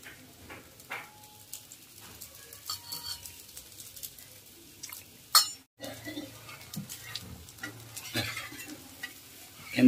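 Raw banana dosa batter sizzling in oil on a pan, with a steady quiet crackle, scattered clinks of a utensil, and one sharp scrape midway.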